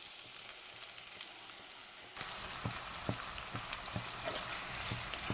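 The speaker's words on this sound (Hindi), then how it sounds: "प्याज मैंने ऐड कर दिया है।" Onions dropped into hot cooking oil in a kadai for Lahori chicken pulao, a steady crackling sizzle that jumps louder midway and continues with scattered pops and spits, close by with no talking.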